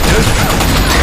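Grenade blast in a multiplayer shooter game on a sandstorm map: a loud, dense burst of explosive noise that fills the whole short moment, with gunfire-like crackle and no clear pauses.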